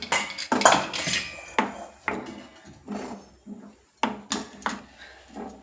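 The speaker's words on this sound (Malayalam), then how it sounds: "നമ്മൾ നല്ല രീതിയിൽ ഇളക്കി കൊടുക്കുക." A cooking pot holding prawns is stirred, producing a series of clinking and scraping knocks of a utensil against the pot at an irregular pace, close and fairly crisp.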